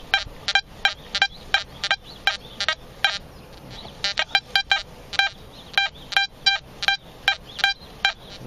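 A run of short, sharp electronic beeps from an XP Deus metal detector repeats in quick clusters with brief gaps, fairly loud and close, with no talking.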